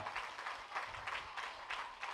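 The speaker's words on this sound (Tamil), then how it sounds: "எல்லாம் ஜோராக ஒரு தடவை கைத்தட்டுங்க" Audience clapping at a church festival: faint, rather distant applause in evenly spaced bursts that give it a loose rhythmic pulse, with no voices over it.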